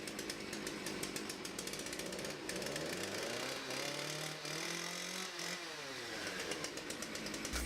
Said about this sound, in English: we have to cut them in half with a chainsaw before the pieces will fit in our evaporator